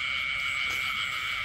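Frogs calling at night in Đa Phước commune, a dense continuous chorus of high trilling and croaking that fills the background steadily without pause, fairly loud, with no clear talking.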